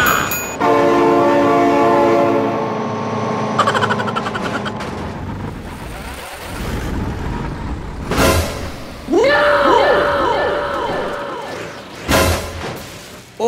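Train in BeamNG.drive sounding its horn while passing, loud blasts over heavy rolling rumble, then crashes and swooping metallic tones as the horn returns.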